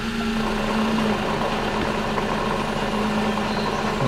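A Daewoo Matiz 0.8 manual from 2011, raised and running in second gear with a suspected speedometer cable noise: a steady mid-pitched engine and drivetrain hum with a faint constant whine, close and continuous.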